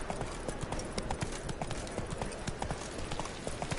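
Roach the horse in The Witcher 3, hooves clip-clopping in a steady, quick trotting rhythm, close and continuous, with faint talk in the background.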